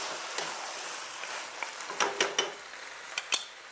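A spoon stirs spiced vegetables with added salt in a pan, giving scattered clinks and scrapes against the metal over a soft, continuous background sizzle.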